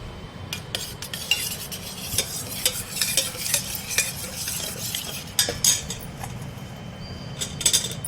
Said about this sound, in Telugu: ఇది వేసుకొని బాగా ఫ్రై చేసుకోవాలి రెండు కలిపి ఫ్రై చేసుకోవాలి